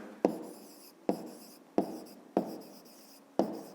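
Pen writing an answer on paper in five short, distinct bursts of scratchy strokes with brief pauses between, close and quiet, no talking.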